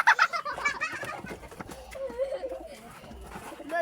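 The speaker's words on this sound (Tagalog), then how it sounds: "Mga kalapati" Pigeons cooing nearby in soft, repeated throaty calls, mixed with voices talking over them.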